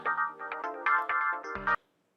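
A phone ringtone plays at night, a bright electronic melody of repeated short tones, close and clear, cutting off abruptly after under two seconds.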